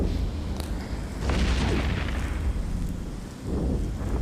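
A Hurricane ship blowing apart in the space game EVE Echoes, a deep rumbling boom that rolls on for seconds with a second heavy thud near the end.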